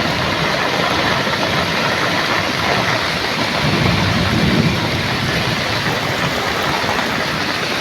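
Rain falls during typhoon Enteng flooding as a steady, dense downpour hissing across everything. It is loud and continuous, with a low rumbling swell near the middle.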